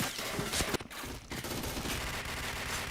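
Gunfire in a first-person shooting video game comes as rapid bursts of automatic fire at moderate volume. A short dip in the shooting falls near the first second, and the bursts then continue steadily.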